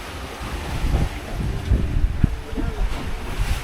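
Wind gusts across a sailboat at sea on a passage from Panama to the Galapagos, a loud rushing roar with buffeting on the microphone, water sloshing and faint creaks underneath.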